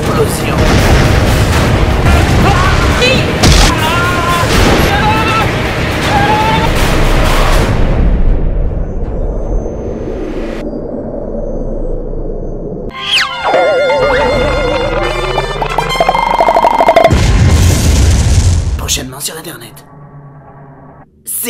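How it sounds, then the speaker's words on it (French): Loud booms and blasts crash repeatedly amid chaotic noise, with bursts of rumbling impacts and brief quieter gaps between them. "Des explosions."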